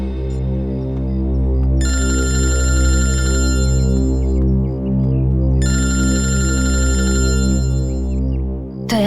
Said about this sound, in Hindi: दया सर का फोन?